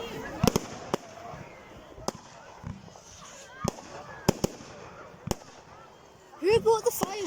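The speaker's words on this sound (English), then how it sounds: "Who brought the fireworks in?" Bonfire Night fireworks pop and crack at a distance, a dozen or so sharp, irregular bangs over a quiet outdoor background, with people talking near the end.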